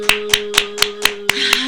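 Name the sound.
hand clapping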